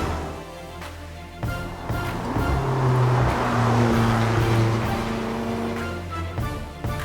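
McLaren 570S Spider sports car driving, its engine a steady low drone that swells and eases with road noise, heard from close by with no talking.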